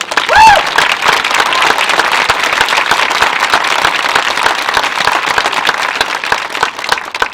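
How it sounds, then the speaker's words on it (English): A school graduation audience gives the concert choir a dense, loud round of applause, many hands clapping continuously in a large hall throughout, with a brief voice at the start. "Have another round of applause for the concert choir."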